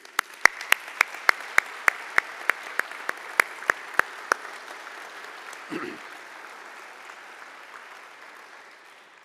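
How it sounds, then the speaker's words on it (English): Audience at a college alumni award ceremony claps for the honorees with a sparse, slow run of individual sharp claps, loud and distinct, fading out after a few seconds into a quiet room with a brief low thump. "One more final round of applause for them, please."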